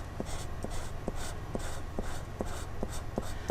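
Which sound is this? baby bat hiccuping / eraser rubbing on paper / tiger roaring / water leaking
eraser rubbing on paper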